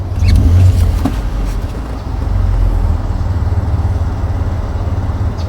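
Car engine revving loudly as the accelerator is pressed during an OBDII scanner check, a strong low rumble that swells twice then holds a steady drone.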